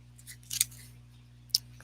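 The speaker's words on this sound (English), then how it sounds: "let's shuffle this sucker 7 times." A deck of playing cards being shuffled at a kitchen table, heard as two or three brief, crisp riffling bursts close by against a steady low hum.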